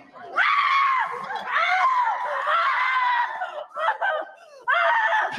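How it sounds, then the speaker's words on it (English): A woman screams loudly and shrilly in a restaurant, several long, wavering, close cries broken by brief pauses, with no other talk. "don't scream."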